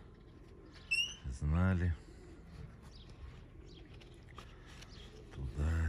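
Young pigeons coo in two bursts, near and moderately loud, while someone talks over low ambient noise during a walk around the dovecote grounds.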